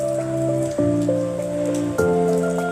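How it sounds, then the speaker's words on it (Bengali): Heavy rainwater pours off a roof in a loud, constant rush with a ringing, tonal splash that shifts pitch twice, close by and without voices. "উপরের ছাদ থেকে পানি পড়ার স্পিড ক্লিয়ার, তো বুঝাই যেতেছে যে কত জোরে বৃষ্টি পড়তেছে।"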